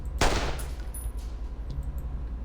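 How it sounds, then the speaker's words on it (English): A single loud revolver gunshot in an audio drama, a sharp blast that rings out and echoes off walls, followed by a low lingering rumble. "The deafening gunshot echoes within the wall against the walls."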